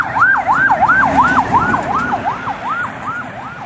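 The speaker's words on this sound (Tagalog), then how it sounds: "Ambulansya oh." An ambulance siren wails loudly in a steady rising-falling cycle, repeating about ten times over road traffic rumble.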